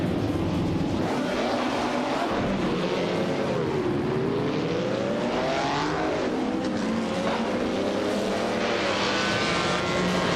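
A 1958 Porsche 718 RSK race car in a racing video game at Anderstorp, with a loud, continuous engine whine rising and falling through gear changes as several cars roar together throughout.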